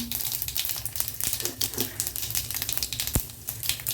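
Mustard seeds, urad dal and dried chillies sizzling in hot oil, with rapid, dense crackling and popping heard up close. It runs steadily from start to end, with one sharp pop standing out, and no talk over it.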